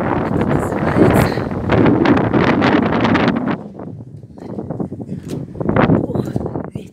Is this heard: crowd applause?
no